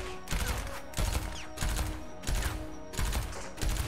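Baptiste's gun in the Overwatch video game firing in repeated bursts, roughly six rapid volleys evenly spaced, loud and close with no talking.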